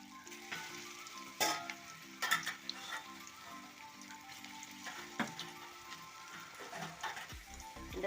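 Drumstick-leaf vadas fry in hot oil in a cheenachatti, a soft steady sizzle with a few sharp crackles and pops over faint background music.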